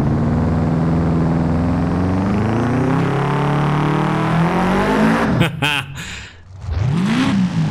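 A boxer-engine car in the Forza Horizon 5 racing game revs hard. The engine note climbs and sweeps in pitch, followed by sharp gear-shift cuts and a renewed rev near the end, loud and continuous with no talk over it.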